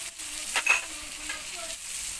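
Spice paste of ground onion, garlic, turmeric, chili powder, cumin and salt frying in a pan for tilapia curry with tomato, a steady close sizzle broken by a few stirring scrapes.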